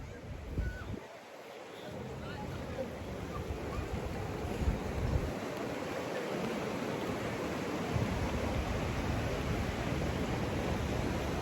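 A river rushes steadily through Kumrat Valley in Swat, a continuous broadband roar of water with some wind buffeting the microphone, loud and close with no break.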